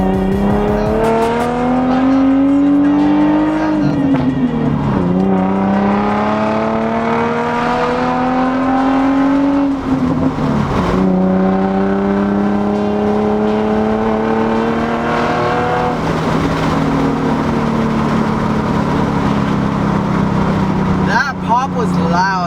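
An Infiniti G35 with a budget aftermarket exhaust revs through its RPM range, giving a loud, close droning roar that rises and falls in repeated sweeps, with someone talking over it.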